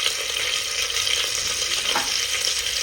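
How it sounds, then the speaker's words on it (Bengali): Mutton with turmeric and a little salt frying lightly in a 3-litre pressure cooker while being stirred, giving a steady close sizzle with scraping stir movements and no voices. "এবার ভালো করে নাড়া দিয়ে একটু হালকা করে ভেজে নেবো, বেশি ভাজবো না।"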